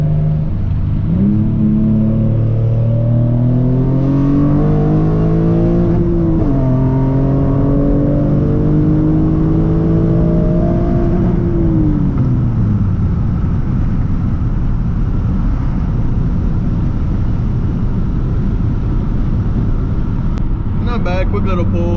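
A modified car with a six-speed manual swap pulls hard from the driver's seat, its engine note climbing steeply through one gear, dipping briefly, then rising again before easing off into a loud steady drone with rumbling road noise.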